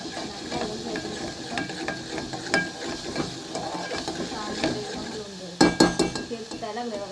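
Homemade garam masala frying in oil for misal, a steady sizzle under repeated scraping and clinking of a spoon against the pan, with sharper metallic knocks near the end.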